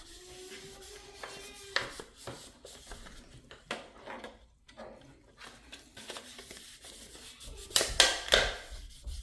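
An alcohol pad rubs and wipes across a lab scale in a pharmacy compounding setting, giving soft intermittent scrubbing strokes with small clicks and a louder rustle of handling near the end.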